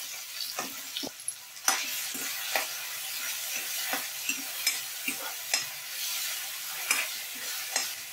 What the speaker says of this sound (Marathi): तेल गरम झाल्यावर त्यात टोमॅटो घालून चांगले मऊसर भाजून घेऊया।